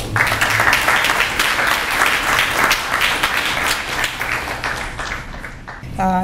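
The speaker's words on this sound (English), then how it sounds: "please welcome Dr. Kathryn Weathersby with a warm round of applause" A lecture audience gives sustained applause welcoming a historian speaking on the outbreak of the Korean War, a dense, loud wash of clapping that holds steady for about six seconds before tapering.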